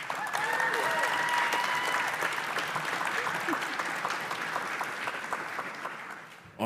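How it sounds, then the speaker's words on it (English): A convention audience at PAX West 2024 claps in a sustained round of applause, dense and fairly loud, fading slightly toward the end before an abrupt cut. "Let's give them a little round of applause."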